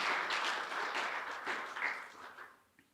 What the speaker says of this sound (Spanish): Dale un aplauso al Señor si esta es tu convicción